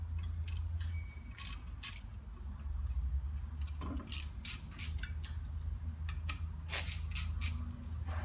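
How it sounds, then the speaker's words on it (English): A ratchet clicks in quick bursts of steady pawl ticks, close up, as small 10mm bolts are undone on a Toyota Land Cruiser 76/78/79 series swivel hub, over a low constant hum. "on the back, we've got a heap of little 10mm bolts. We're going to undo them"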